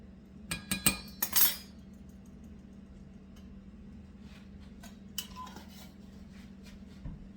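Cake batter for a cream cheese pound cake being mixed with powdered milk in a bowl: a few sharp metallic clinks of utensil against bowl early on, then quieter faint scraping with a low steady hum beneath.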